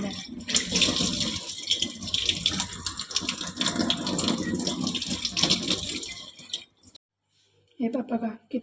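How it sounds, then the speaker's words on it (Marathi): Running tap water splashing over a copper pot as it is rinsed clean, a continuous loud spatter that cuts off near the end, followed by a short burst of talk. "मी आता तुम्हाला पाण्याने धुवून दाखवते आणि मग त्याचा रिझल्ट दाखवते, त्या तांब्याचा आणि या तांब्याचा."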